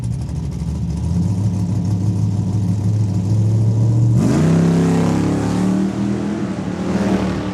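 A Camaro and a 2013 Dodge Challenger launch off the line at a drag strip, loud engines idling with a steady low rumble before erupting into a hard, rising roar as both cars accelerate away, no talking.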